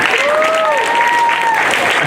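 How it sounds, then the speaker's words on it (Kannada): Thunderous applause from an audience at a Kannada cultural organisation's event, a dense steady roar of clapping across the whole span, with a voice or whistle-like tones riding above it. "ಒಡೆಯುವ ಚಪ್ಪಾಳೆ"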